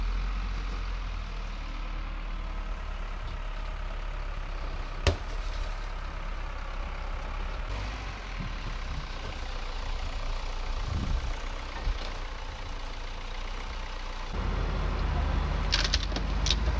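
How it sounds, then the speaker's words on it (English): A heavy machine idles and rumbles while carrying a car across a salvage yard, a steady low diesel drone with a few sharp clanks and knocks, heard from a moderate distance outdoors and swelling slightly near the end. "You want to film that guy carrying that car."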